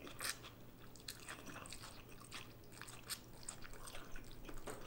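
Ramen noodles being chewed close to the mic, soft wet crunching and slurpy mouth sounds repeating steadily, fairly quiet with no talking.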